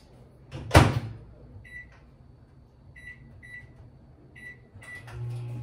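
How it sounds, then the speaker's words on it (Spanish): A microwave oven is started to melt chocolate for chocolate-covered strawberries: a sharp door thud comes first, then a short series of clear electronic beeps, and a low hum rises at the end, with no talking. "Lo voy a poner aquí un minuto en el microondas."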